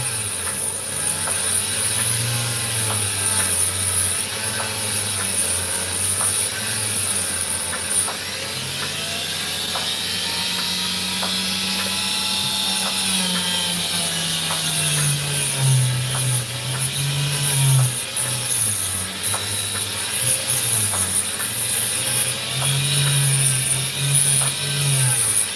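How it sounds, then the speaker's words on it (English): A saw grinds through opal rough and sandy matrix, a steady mechanical whine with a shifting, wavering tone and faint rattling, sustained and close throughout. "I'm listening for the telltale sign of me cutting through actual opal"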